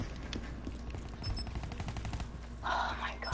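Gunfire in the shooter video game Black Ops 3: rapid bursts of shots crackle in quick succession at moderate volume, with a louder burst toward the end.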